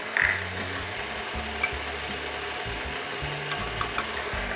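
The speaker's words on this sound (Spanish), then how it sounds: "esto lo vamos a batir por 5 minutos" An electric mixer beats apple cake batter flavoured with vanilla, giving a steady low motor whir that drops out and restarts in short bursts, close by, with no talking.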